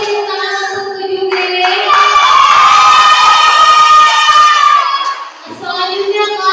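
Schoolchildren in a class quiz competition clap and cheer, a loud burst of applause with shouting and whooping voices that swells in the middle, while tonal speech or music runs underneath.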